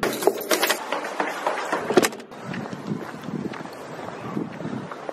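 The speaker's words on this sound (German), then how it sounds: "Ziemlich bewölkt und windig." Wind blusters outdoors on a cloudy day, buffeting the microphone in loud gusts at first, then easing into a softer steady rush.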